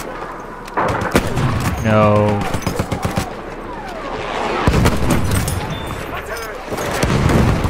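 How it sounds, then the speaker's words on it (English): Battlefield 1 gunfire crackles in rapid bursts and heavy booms across a war battlefield, dense and fairly loud, with a voice speaking briefly over the shooting. "This gun fire is okay."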